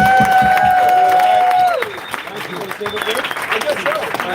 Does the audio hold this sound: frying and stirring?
no